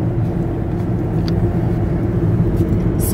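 A car rolling along a road on a drive through mountainous country, heard from inside as a steady low rumble of engine and tire noise, with no break in the drone.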